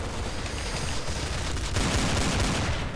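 Heavy, continuous gunfire fills a Counter-Strike: Source gun game match, with rapid overlapping shots and booming reports that stay loud and dense throughout.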